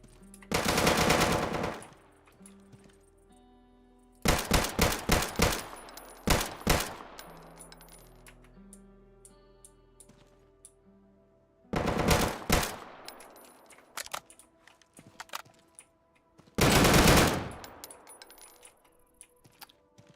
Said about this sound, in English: Oh right, elite missions have turrets.